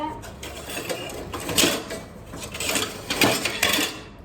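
Metal spoon clinking against dishes and pots in a home kitchen while cooking with chopped coriander and tomato, a few sharp separate clinks and scrapes over low background noise while someone talks.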